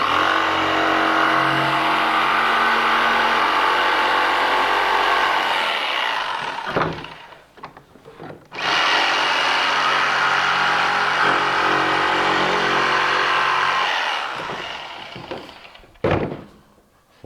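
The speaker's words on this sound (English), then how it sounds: "I'll just come in at an angle with my jigsaw and finish cutting the rest of it" Jigsaw cutting a laminate flooring board at an angle: two long, loud buzzing cutting passes separated by a short pause, each ending with clunks as the blade stops.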